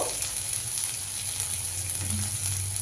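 Hot oil sizzles and spatters in a pan with chopped green chilies, part of cooking a spring onion leaf paratha, as a dense, steady crackle close by with no talking.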